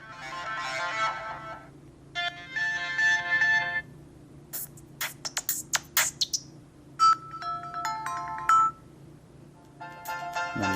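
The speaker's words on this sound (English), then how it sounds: "Separate settings for ringtones for voicemail and messages" Ringtones played on a Microsoft KIN ONE phone from Verizon: several short electronic melodies and chime sequences, each starting and stopping abruptly with brief silences between, some with quick staccato blips, clear and close over a low steady hum.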